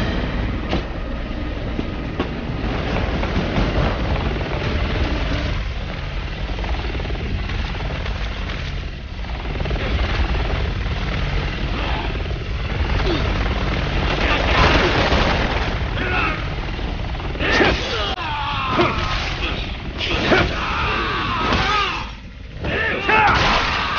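A helicopter in the Resident Evil 6 video game roars continuously with heavy rotor thumping and rumbling engine noise, loud and close, mixed with intense game action sounds and booming impacts throughout.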